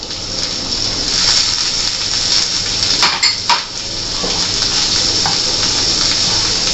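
Potatoes stirred in a pan for a Frankie recipe, a utensil scraping and clinking against metal over a steady hissing sizzle, with a couple of sharper knocks partway through.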